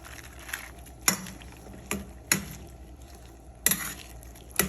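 Pechay and spring onion leaves stirred in a pan over a soft sizzle, with a few sharp utensil scrapes and knocks against the pan at irregular intervals, close and fairly quiet.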